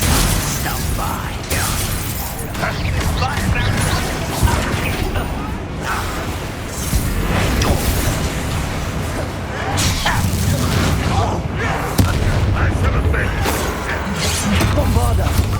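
In Hogwarts Legacy, Bombarda blasting spells explode again and again through a spell-filled duel, with heavy booms, crackling debris and mechanical clatter under a steady din and occasional voices.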